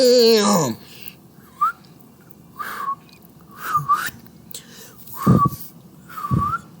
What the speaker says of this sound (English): Wait, I'm trying to whistle.